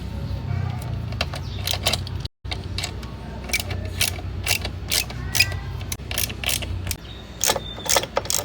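Brake caliper being removed from a Dominar 400 motorcycle: close metallic clicks, creaks and ratcheting taps come in irregular bursts over a low steady background hum.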